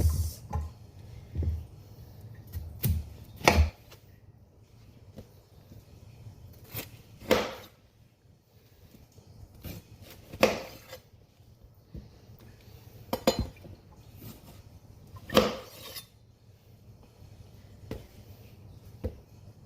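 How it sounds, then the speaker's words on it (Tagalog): A knife slices food thinly on a cutting board in a home kitchen, giving sharp, separate taps and clicks at an uneven pace over a quiet room, close to the microphone, with no talking. "After ng hiwain, na kailangan hiwain ng maninipis."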